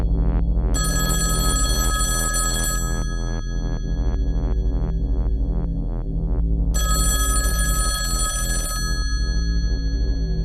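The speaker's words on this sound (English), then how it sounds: "Well, are you going to answer the phone?" Old-style telephone bell ringing in repeated bursts, each burst lasting about two seconds with a pause between, loud and near over steady background music, with no one speaking.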